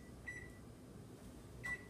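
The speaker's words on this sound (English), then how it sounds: "take this and put it directly into our microwave" A microwave oven runs while cooking mac and cheese, giving a faint, steady low hum broken by two short electronic beeps.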